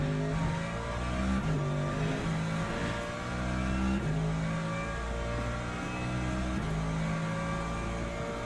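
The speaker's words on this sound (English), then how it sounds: "The downshifts on this sound really good." Race car engine in Le Mans Ultimate racing at Bahrain, droning loudly and steadily with repeated revs rising and falling as it shifts through the gears, heard alone without talk.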